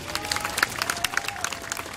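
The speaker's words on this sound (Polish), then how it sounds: "Gorące brawa dla nich!" A crowd applauds a brass band and majorette troupe at an award announcement. Dense, soft clapping patters evenly with a few louder claps poking through, heard from some distance.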